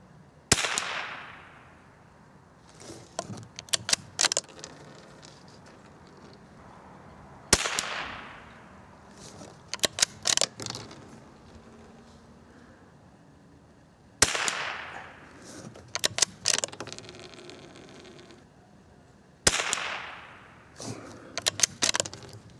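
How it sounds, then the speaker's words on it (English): Four sharp cracks at long even gaps from a vintage .22 rifle firing new match ammunition at targets outdoors, each followed by a long ringing tail and metallic clinks and rattles of the action being worked; no one speaks. "Shooting at the target on the left, that little orange target on the left."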